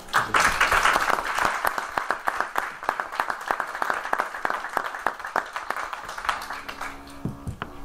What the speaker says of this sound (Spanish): os pediría un aplauso para ellos